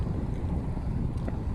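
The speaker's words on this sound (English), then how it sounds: "The wind is the problem." Wind buffeting and roaring across the microphone while riding a Univega 26 fixed gear conversion bike on a bright, cold day, a dense continuous low rumble with no talk.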